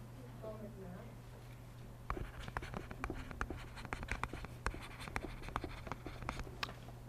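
Pen scratching on paper in quick, irregular strokes while jotting notes for a science quiz, faint and close, with a steady low hum underneath and soft breathing early on.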